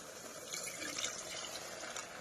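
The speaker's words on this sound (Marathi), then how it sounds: "गरम पाणी टाकायला लागते" Hot water pours steadily into a pot while cooking mutton, a soft splashing trickle that stays fairly even and close throughout.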